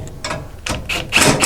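A ratchet and 12mm socket tighten a latch bracket on an ArmorTech door for a Honda Pioneer 1000, giving several short bursts of close, clicking mechanical ratcheting separated by brief pauses.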